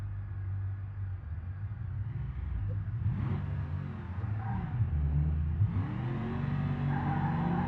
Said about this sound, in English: Four-wheel burnout, why not?